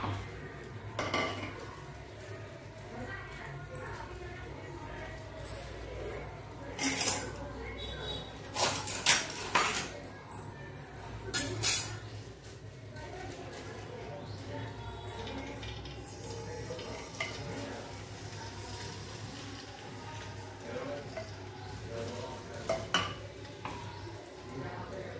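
Chili-cumin paste frying in plenty of hot oil, a low sizzle under intermittent scraping and clanking of a spoon stirring the pan, with a few louder metallic knocks mid-way and faint speech in places.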